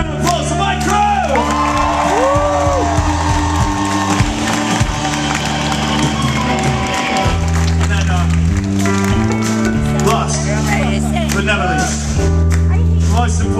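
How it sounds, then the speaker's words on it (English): A concert audience whoops, shouts and cheers loudly for the crew at the WHYY Connections Festival, with a band's sustained instruments ringing steadily beneath the crowd throughout. "let's have a round of applause for my crew!"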